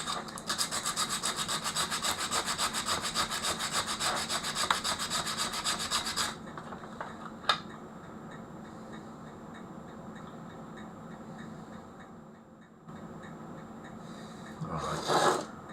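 A small old spanner is scrubbed clean with rapid, rhythmic rasping strokes for several seconds, then fainter scraping and handling noises follow.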